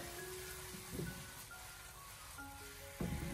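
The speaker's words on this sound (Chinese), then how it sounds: "然后再继续的给它翻炒几下，给它翻炒均匀，把它炒出锅气" Cucumber and pork slices stir-fried in a wok, a soft steady sizzle broken by two clanks of the spatula against the pan, quiet and close.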